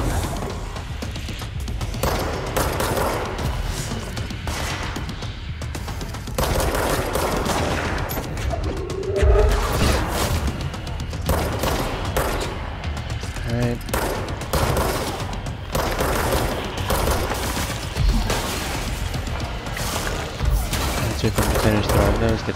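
Sustained gunfire from the video game Control, dense bursts and automatic fire rolling on through the whole stretch with occasional heavier impacts, loud and busy with a voice talking over parts of it.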